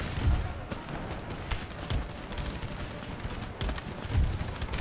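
Cannon and musket volleys in Empire Total War during a battle at an Indian fort, sounding as repeated low booms and crackling shots spread over a few seconds beneath a constant battle din.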